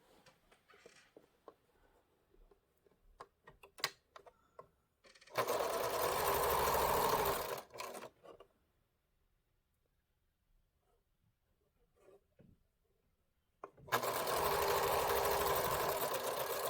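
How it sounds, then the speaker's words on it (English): A sewing machine stitches half-square triangle quilt units together in two loud, steady whirring runs of about two and a half seconds each, separated by quieter handling clicks and fabric rustling. "we're going to stitch these together"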